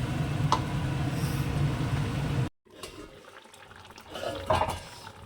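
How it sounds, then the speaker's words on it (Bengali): Hot water poured into a simmering Bengali meat curry, a rushing splash that cuts off abruptly, followed by quieter bubbling and a few small clinks from the pot. "এই জলটুকুও দিয়ে দেবো"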